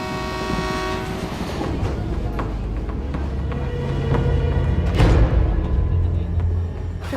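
A train pulls into a railway station with a loud rumbling, clattering roll and a blaring horn tone early on. The noise swells toward the end, and faint voices mix in beneath it.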